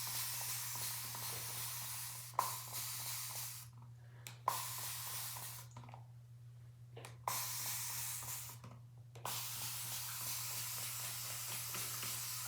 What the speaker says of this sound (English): Just gonna go ahead and wet my hair.